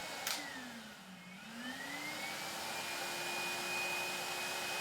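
A Henry Cordless vacuum cleaner whirs with a steady motor hum, its pitch dipping and then climbing to a higher, even whine as it speeds up, moderately quiet and heard alone with no talking.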